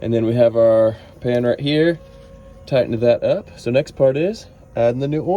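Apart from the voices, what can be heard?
No everyday noises stand out.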